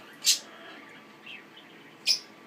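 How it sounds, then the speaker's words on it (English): Lovebirds in an indoor bird room give two sharp, high chirps about two seconds apart, with a faint call between them over a quiet room. "we have lovebirds over there"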